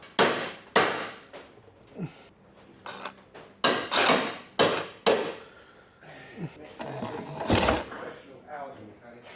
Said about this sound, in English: I think it's going to have to be a hammer and chisel.